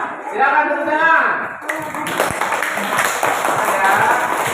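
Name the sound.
class clapping hands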